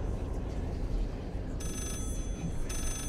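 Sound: telephone ringing in the Layers of Fear video game

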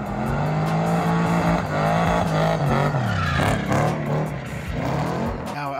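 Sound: Bentley car drifting, engine revving

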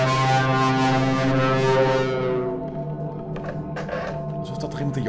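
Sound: loud honking sound in Spooky's House of Jumpscares video game

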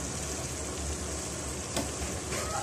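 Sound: oil sizzling in pot with cooked meat

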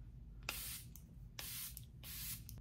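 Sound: Charlotte Tilbury setting spray being sprayed

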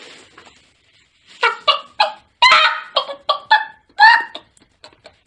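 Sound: person imitating a chicken

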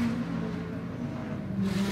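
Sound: GT race cars driving around a circuit

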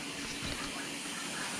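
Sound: DeLaval VMS milking robot camera being rinsed with water

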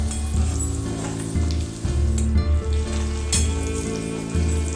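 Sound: onion and curry leaves frying and stirred in pan

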